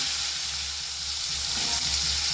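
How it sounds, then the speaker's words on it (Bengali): Salted mixed vegetables fry in a pan with a loud, continuous sizzle and hiss, a brief stirring shuffle rising near the end; no voices. "এই এবার এগুলো হালকা করে আমি ভেজে নেব"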